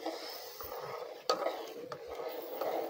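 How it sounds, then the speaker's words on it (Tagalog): A spoon stirs a molasses mixture in a pot, giving soft scraping and a few sharp clinks against the metal, quiet and close, with faint background noise and no talk. "At ang gagawin natin ay haluin na."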